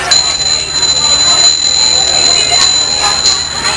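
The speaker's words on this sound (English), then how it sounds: "These are Tibetan bells" High ringing tones from Tibetan bells sustain steadily through a percussion stage demo, bright and clear over a continuous background wash with a few soft strikes.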